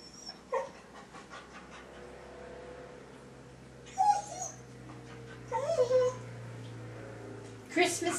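A dog whimpers in short, high whines between stretches of soft panting, fairly quiet and close, with a low steady hum beneath.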